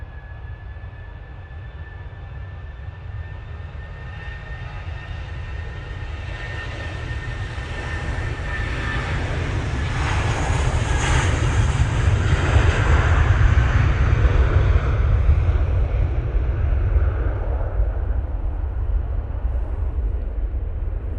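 A jet airliner takes off from Manchester Airport, its roaring engines building to a loud, sustained rumble that peaks midway and holds steady to the end, heard alone with no talking.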